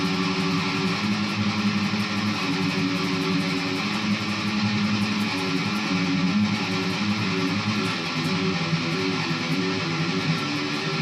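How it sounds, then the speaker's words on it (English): Electric guitar tremolo picking on a riff: a rapid, continuous stream of picked notes, loud and steady throughout with no talking. "It is tremolo picking, which is done by, it's pretty much just extremely fast picking"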